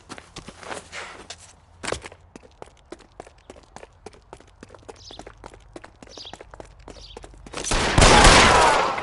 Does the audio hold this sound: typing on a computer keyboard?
no